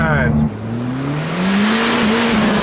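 A modified big-turbo Abarth 595 pulls hard, heard from inside the car: a loud engine note climbs, drops briefly at a gear change, then climbs steadily again.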